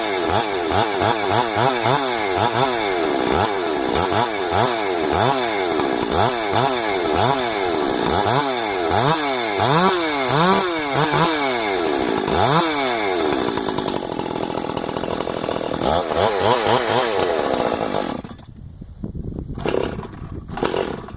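Freshly rebuilt Husqvarna 372XP chainsaw engine running and being revved repeatedly, loud rising-and-falling two-stroke snarls in a rapid rhythm, then settling toward idle with a brief drop before picking up again.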